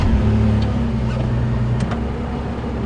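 A safari vehicle's engine idles and rumbles steadily at close range during a leopard sighting on a sunrise drive, a constant low drone with no talking.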